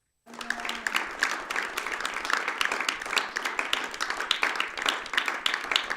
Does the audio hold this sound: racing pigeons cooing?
no